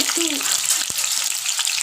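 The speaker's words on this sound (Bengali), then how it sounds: "সেই আলুগুলো একটু ভেজে নিচ্ছি" Cut potatoes frying in oil in a wok for a chicken curry, a bright steady hiss of sizzling with a brief tonal squeak and one sharp knock of a utensil.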